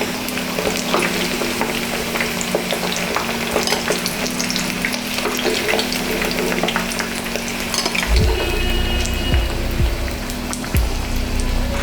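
Potato pieces frying in hot oil for a catla fish biryani, giving a loud, steady close-up sizzle with occasional stirring scrapes and no talking.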